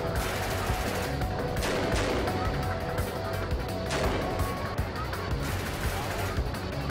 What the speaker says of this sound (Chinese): 互相开枪